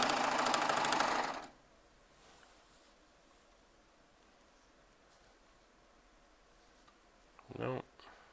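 A Baby Lock Triumph serger runs loud and fast for about a second and a half, then stops into near silence, followed near the end by a brief burst of stitching.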